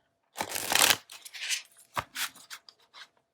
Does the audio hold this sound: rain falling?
no